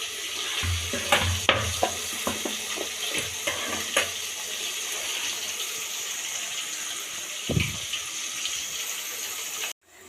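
Fish frying in oil in a pan gives a steady, close hiss, with bursts of utensil clatter and scraping in the first few seconds before the sizzle carries on alone.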